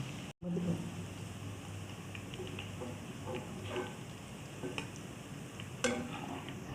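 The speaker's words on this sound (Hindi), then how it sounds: "देखिए बस ये प्याज मैंने निकाल लिया फ्राई करके।" Quiet, steady sizzle of food frying in oil, with soft stirring clicks and a brief thump near the start.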